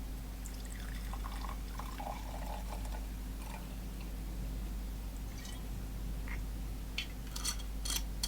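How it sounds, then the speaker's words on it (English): A drink is poured into a glass, a soft trickling and splashing against a steady low hum, with a few faint clinks and taps scattered through the quiet room. "So I shall pour another and continue"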